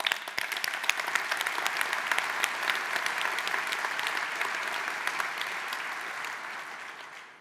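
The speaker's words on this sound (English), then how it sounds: "I want to say thank you and a round of applause for everything that you do." Sustained applause fills a large hall from an audience at a software company's European summit opening keynote, dense and steady throughout before tapering slightly at the end, with no voices over it.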